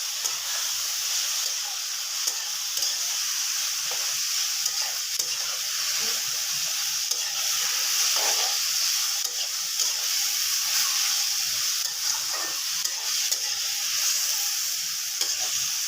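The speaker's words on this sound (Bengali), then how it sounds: "তো আমি করলা ভাজি যে করতেছি এটা আমি ঢাকবো না, তা একটু মিডিয়াম আঁচে দিয়ে আমি রান্না করব।" Sliced bitter gourd with a little turmeric fries uncovered in a pan over medium heat, giving a steady close sizzle with soft stirring scrapes throughout.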